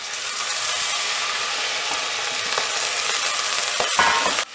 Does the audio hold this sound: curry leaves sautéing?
yes